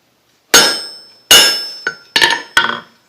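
A hammer striking a hot steel leaf on an anvil while forging a desktop tulip and leaf pen holder: five loud, ringing metallic blows with decaying resonance, the last three coming faster.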